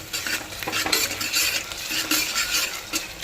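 Ginger garlic paste fries in a pan, a close sizzle with steady stirring and spoon scraping throughout, no voices.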